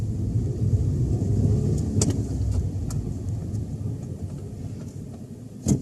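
Manual stick-shift car pulling away from a stop: low engine rumble rising as it accelerates, heard from inside, with a few faint clicks and no talk.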